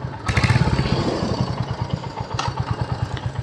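A 2023 Royal Enfield Hunter 350 motorcycle, its single-cylinder exhaust thumping in a steady, even rhythm close by, slightly louder at first, then settling into a regular beat with no talking.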